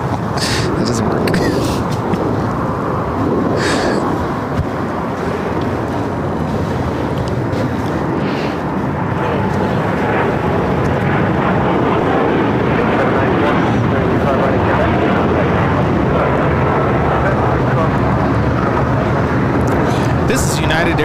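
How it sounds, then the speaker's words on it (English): A United Airlines Boeing 787-10 Dreamliner takes off from runway 25 right at LAX, bound for Tokyo Haneda, with a loud, steady broadband engine roar and wind buffeting on the microphone throughout, and no clear talk. "we do have a United Dreamliner now rolling down at 25 right"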